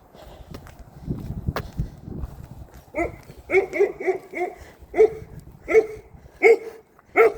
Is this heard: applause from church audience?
no